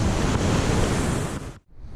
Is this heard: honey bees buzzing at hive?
no